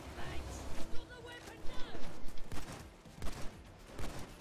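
Repeated bursts of gunfire fill a Payday 2 heist in short, irregular volleys, some of them rapid and close, while several players talk to each other over the shooting.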